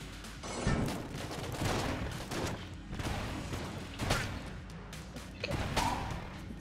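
Rapid gunfire in the Enter the Gungeon video game, a dense string of repeated blasts and impacts, fairly faint and evenly spaced across the stretch, with no voice over it.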